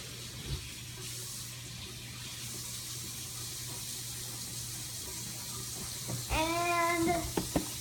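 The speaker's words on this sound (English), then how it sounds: "So, Alexander, I'm gonna get some warm water" A tap runs warm water in a steady, fairly quiet stream, followed by a brief voice and a couple of knocks near the end.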